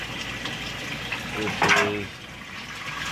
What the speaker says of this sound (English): I'm gonna adjust the ball valve for you guys and you can watch the water flow